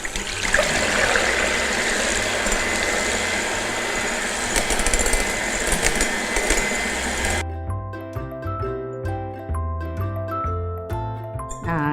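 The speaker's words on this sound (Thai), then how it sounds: "เราก็จะตีไข่ขาวให้ขึ้นฟูก่อนนะคะ" Egg whites with salt and cream of tartar, being whisked until fluffy for a Castella cake, give a loud, steady mechanical whir with a wet churning texture. It cuts off after about seven seconds, and music follows.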